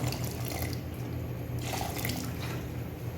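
Continuous splashing water pours steadily and loudly up close, a dense rushing sound throughout.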